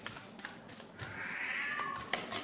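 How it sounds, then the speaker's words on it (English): A cat cries out from another room, its drawn-out, rising meow faint and distant over quiet background noise. "now my cat is screaming out there"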